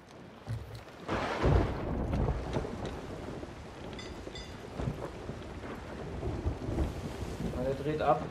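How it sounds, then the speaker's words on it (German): A thunderstorm at sea in the pirate game Sea of Thieves, with heavy rolling thunder over constant rain and wind buffeting, loud and close throughout. "jetzt fahren wir genau in den Sturm rein"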